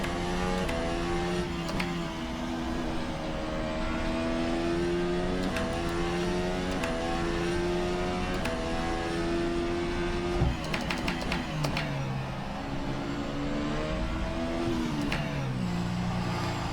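A race car engine in a Formula 1 style video game revs and accelerates hard under full energy deployment, pitch climbing and dropping through gear changes, loud and continuous with no voices.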